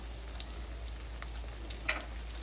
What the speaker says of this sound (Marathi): टमॅटोही आपल्याला छान असा तेलावर परतवून घ्यायचा आहे